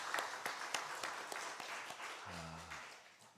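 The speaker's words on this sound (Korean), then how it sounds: "하나님께 영광의 박수 올려드립니다" A church congregation at a Sunday worship service claps together, a fairly quick, distinct rhythm of hand claps that fades slightly toward the end, with a brief low tone near the finish.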